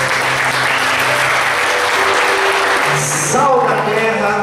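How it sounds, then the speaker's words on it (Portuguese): Steady applause from a large church congregation filling the whole stretch, with voices and music tones faintly mixed in underneath. "Vamos dar uma salva de palmas para a palavra de Deus."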